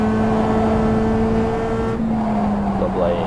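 A Mazda MX-5 race car engine in the iRacing simulator at the Nürburgring holds a steady buzzing drone, then shifts pitch sharply partway through with a faint tire squeal, while someone talks over it.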